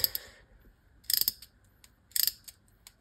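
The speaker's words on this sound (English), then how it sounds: "I'm screwing down the screw with ratchet" A small ratchet clicks in quick bursts while tightening a screw on a pin replacement tool for an RC car driveshaft, with two or three close, crisp clusters of pawl clicks and quiet gaps between them.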